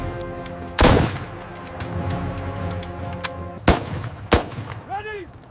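Rifle volleys from troops at Omdurman in 1898 come as a few loud, sharp cracks, spaced irregularly, while a dramatized battle scene continues underneath with shouting voices.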